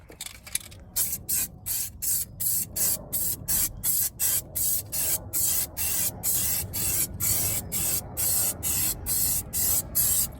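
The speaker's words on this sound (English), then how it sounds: "shake your can for about 2 minutes, and it should be fine to just spray it all in the arch there" Repeated loud hissing bursts from an aerosol can spraying underseal into a VW Golf R32's rear wheel arch, about a dozen evenly spaced blasts, close up with no voices.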